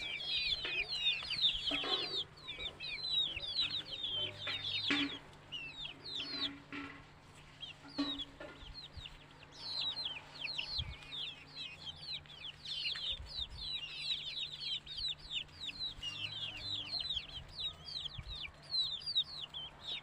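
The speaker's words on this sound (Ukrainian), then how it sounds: "Хорошо ростуть, прекрасні курчатка." A brood of young chickens chirps and clucks continuously nearby, many high, rapid peeps overlapping in a busy, steady chatter.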